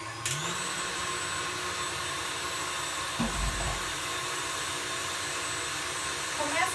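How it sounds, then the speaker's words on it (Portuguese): Electric mixer whipping egg whites for a cake batter, a steady continuous motor whir that holds throughout with a brief dip in pitch midway, loud and close. "Eu vou primeiro colocar as claras. Já vou batendo as claras."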